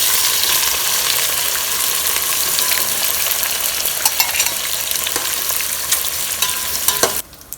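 Large onions, cut into quarters, fry in oil for roasted chicken biryani, giving a loud, steady, close sizzle with stirring scrapes that stops abruptly just before the end.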